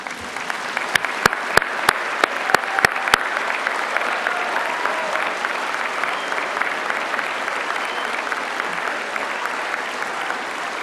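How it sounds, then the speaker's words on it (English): Graduation ceremony audience standing to give a sustained round of applause, dense steady clapping throughout with a few sharp louder claps near the start, filling a large hall. "give them a huge round of applause for the support they give you"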